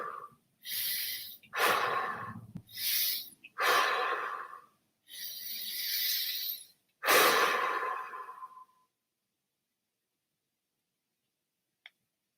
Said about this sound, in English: then I'm going to use my breath.